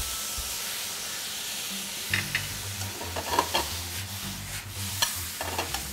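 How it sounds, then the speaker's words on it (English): Soy sauce hitting a pan of pork and shiitake mushroom mixture, giving a soft steady hiss with scattered crackling sizzles and small pops, fairly quiet and close. "This mixture still needs to be seasoned, and so I'm going to add some soy sauce"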